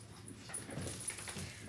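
A dog whimpers softly over a steady low background hum, with short whiny cries rising and falling through the brief stretch, fairly quiet and close.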